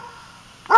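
Dog barks in a short burst near the end, loud and fairly close, after a quiet stretch of low background noise.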